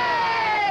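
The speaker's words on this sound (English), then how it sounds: "Let's hear one big cheer now for Toller." A crowd cheers and shouts in one sustained burst for figure skater Toller Cranston at a 1978 televised skating challenge, loud and close with a steady roar.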